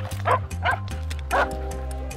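A police sniffer dog at night on a drug search in overseas France barks three times in quick, loud, close yaps over a steady low hum.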